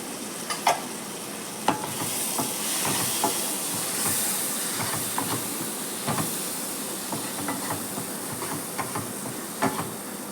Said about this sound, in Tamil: வெங்காயம் தக்காளி இந்தமாரி தான் நல்லா வதக்கி எடுக்கணும்